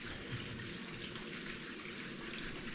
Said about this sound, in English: every time there's a sink turned on in the master bathroom,